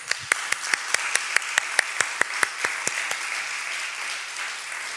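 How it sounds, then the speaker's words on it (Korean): A church congregation claps in a brisk, fairly even rhythm, the individual claps merging into a steady wash of applause that carries on to the end. "하나님께 박수로 영광."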